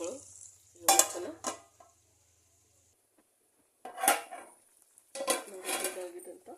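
A metal lid set onto a pot of simmering mutton kheema gravy: a couple of close clattering metal clanks and scrapes with short pauses between, over a faint background hum and no talk.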